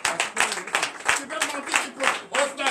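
A church congregation at a Sunday service claps for Jesus in quick, rhythmic bursts, many hands striking together loudly and close by, with voices and cheers mixed into the clapping.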